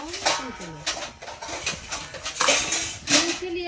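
Plates and spoons being handled in a home kitchen, with clinks and clatters of dishware scattered among people talking.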